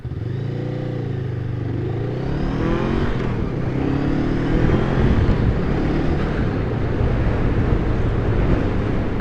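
A Honda Rebel 500 motorcycle being ridden hard, its engine droning steadily with rising and falling pitch under acceleration, close and loud with rushing road noise throughout.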